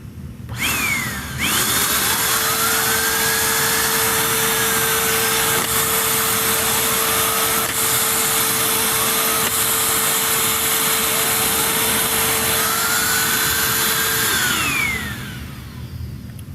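A Bissell PowerForce Compact Turbo upright vacuum with a turbo brush, found on the curb, switches on and runs loud and close with a steady high motor whine for about twelve seconds, then winds down and stops.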